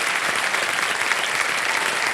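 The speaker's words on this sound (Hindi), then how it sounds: "ताली बज जाए इनके लिए।" A game show studio audience on KBC Season 15 breaks into applause, a thick, even burst of many hands clapping at close range that sustains steadily for a couple of seconds.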